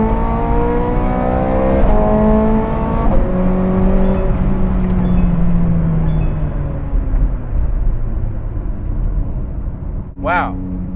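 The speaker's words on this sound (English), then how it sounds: "Wow, this thing moves." A Ferrari 430 Scuderia with a 503 hp engine accelerates hard from inside the cabin. Its loud, rising engine note is broken by several quick gear shifts before it eases off near the end.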